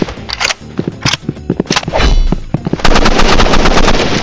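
Gunfire from the Roblox game Rivals with auto shoot: loud, close, rapid shots, first in short irregular bursts and then a dense sustained stream of fire, with metallic clanking and no talk.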